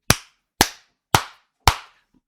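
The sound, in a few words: hand claps imitating loud footsteps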